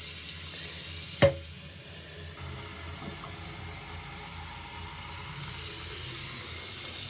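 Water runs steadily from a kitchen sink faucet, discoloured like urine during fire hydrant flushing, as a smooth continuous hiss after a sharp knock at the start. A brief faint clunk comes partway through and there are no voices.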